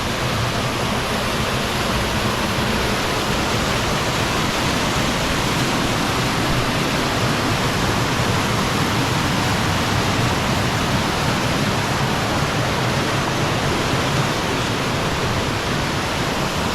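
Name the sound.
Peessa waterfall rushing water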